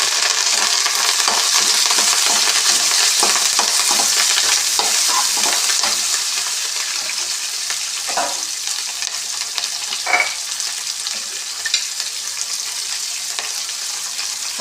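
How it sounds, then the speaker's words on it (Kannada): Onion, curry leaves and green chillies fry in a pan for shavige uppittu, a loud continuous sizzle with occasional clinks and stirring scrapes that eases slightly as it goes on. "ಇವಾಗ ಈರುಳ್ಳಿ, ಕರ್ಬೇವಿನ ಸೊಪ್ಪು, ಹಸಿಮೆಣ್ಸಿನ್ಕಾಯಿ ಹಾಕ್ತಾಯಿದ್ದೀನಿ"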